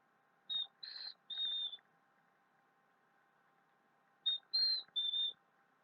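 A bird calls in two separate bursts, each of three short, bright whistled notes, clear against a quiet outdoor background with no talking.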